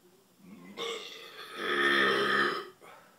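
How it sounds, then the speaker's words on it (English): A loud, drawn-out burp after drinking Abita root beer, rising into a sustained throaty rumble that lasts over a second before cutting off, heard up close and alone. "Definitely gives us a root beer burp, so I'm sorry if that was a little bit gross of a burp too."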